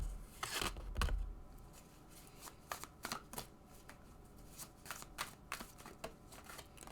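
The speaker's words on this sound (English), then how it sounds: "gonna pull all four of our cards first" Tarot cards are drawn from a deck in a quiet room, making a series of soft, crisp snaps and slides of card stock, spaced irregularly and heard up close.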